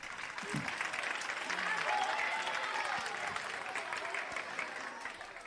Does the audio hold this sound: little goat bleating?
no